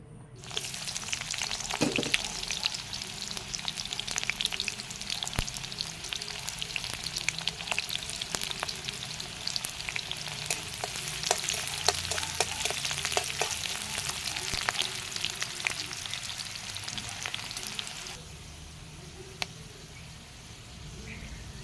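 Leafy greens frying in hot oil in a wok for an Assamese fish curry, a steady loud sizzle with occasional stirring clatter and scraping, easing off near the end.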